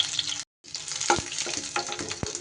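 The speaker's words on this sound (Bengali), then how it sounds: "একটু এইভাবে ডিমগুলো লাল লাল করে ভাজা হয়ে গেলে এবার এগুলোকে তুলে নিতে হবে।" Eggs fry in hot oil with a continuous, close crackling sizzle, broken by a brief silent gap and a few sharp utensil clicks.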